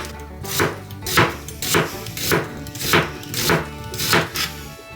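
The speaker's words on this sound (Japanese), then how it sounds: "玉ねぎ切りました" A knife chops an onion into thin slices on a cutting board: about eight crisp, evenly spaced strokes, each landing with a firm thud on the board, close and clear with no talk.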